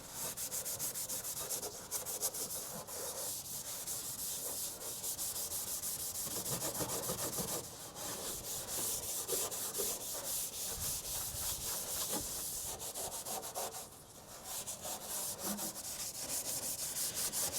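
A Scotch-Brite pad scrubbed steadily over the rusty metal body of a 1965 Chevrolet El Camino, a continuous close abrasive rubbing that stays loud and even, briefly easing once or twice, with no talking.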